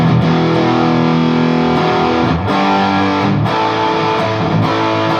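Electric guitar through an Orange Terror Stamp amp with the gain cranked, loud thick distorted chords sustained and re-struck a few times, alone with no talk.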